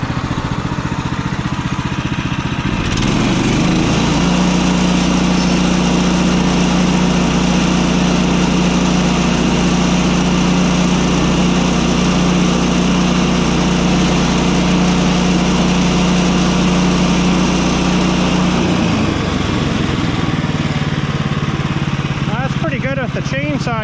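A chainsaw engine starts up and runs at a steady, loud drone for most of the clip, then drops back to a lower idle.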